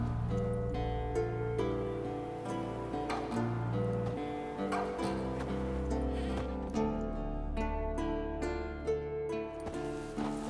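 A goat tied to a stake in The Witcher 3 gives repeated bleats, layered over a steady, full in-game musical and ambient backdrop that fills the whole stretch.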